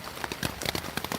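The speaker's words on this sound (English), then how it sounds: "It's still raining." Rain patters on a tent while backpacking near a river trail, an irregular close tapping of drops striking the fabric.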